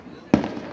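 A single firework bursts during a Fourth of July celebration, a sharp close bang with a short crackling tail over faint background noise.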